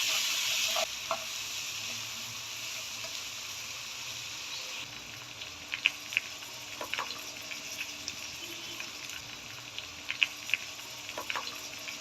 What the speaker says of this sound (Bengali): আদা রসুন একটু ভেজে নিচ্ছি।